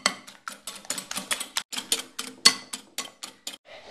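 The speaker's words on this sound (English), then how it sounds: "you have to whisk it until it stands up in like kind of peaks, and it goes very white" A whisk beats egg whites into stiff peaks in a bowl, producing a rapid series of close, crisp tapping clicks in an uneven rhythm, with no one talking.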